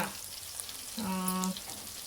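Soft frying sizzle of food in a pan runs steadily throughout, with a brief tonal hum rising over it midway; quiet and close, with no talking.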